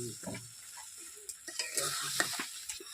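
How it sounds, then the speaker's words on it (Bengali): Curry is stir-fried in a pan after a little water goes in, making a soft sizzle with scattered spatula scrapes, while faint voices murmur in the background. "এবার অল্প করে জল দিয়ে এটাকে কষা হবে"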